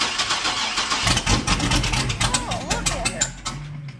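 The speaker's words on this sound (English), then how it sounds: "This is gonna be a Carolina cold start" A 1957 Chevy engine cold-starts: starter cranking gives way to a rough, lumpy idle with a few throttle blips, close and loud, with people talking over it.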